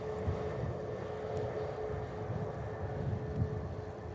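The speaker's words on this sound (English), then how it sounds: "Pegasus A321 coming in next as well" A Pegasus Airbus A321 airliner arriving at Manchester Airport, heard as a steady, broad low roar of jet engines at a distance, continuous without breaks, under windy outdoor air.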